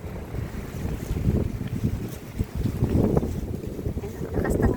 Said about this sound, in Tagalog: ang lakas ng hangin ngayon